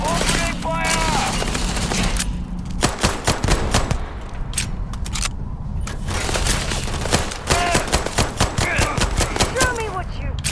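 Rapid bursts of gunfire from the video game Starfield, dense automatic volleys and sharp cracks stacked over a loud combat soundscape, with voices calling out between and under the shots.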